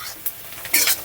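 Onions fried until light brown, with a pinch of turmeric and a few green chillies added, stirred in a pan: short scraping strokes and soft sizzling, close and fairly loud, no talking.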